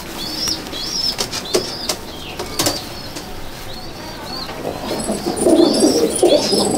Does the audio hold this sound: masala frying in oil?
no